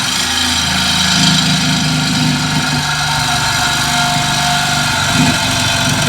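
Sawzall reciprocating saw cutting off the exhaust pipe on a Dodge Ram 4.7 during an exhaust install. A steady, loud, close motor buzz with a droning hum runs unbroken throughout, with no voices.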